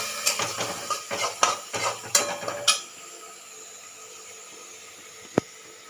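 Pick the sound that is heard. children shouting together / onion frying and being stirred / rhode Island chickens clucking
onion frying and being stirred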